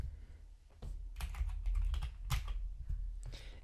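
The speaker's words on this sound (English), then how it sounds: "This keyboard stock sounds 10 times better than the Wooting." Typing on a Drunkdeer A75 Hall Effect keyboard with thin stock ABS keycaps produces close, quick, irregular key clacks and thocks in bursts, heard alone without voices.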